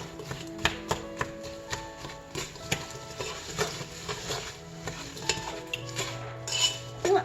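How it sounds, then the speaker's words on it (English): Berries for Christmas pudding stirred in a pot with a spoon, close scraping and knocking strokes in a steady rhythm over a faint simmering sizzle, moderately loud, no voices. "I'm just going to sit here and stir this until my berries start to pop."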